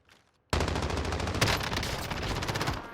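Gunfire in a shooter video game starts abruptly after a brief near-silence, then runs as a loud, dense, rapid automatic burst that continues without pause to the end.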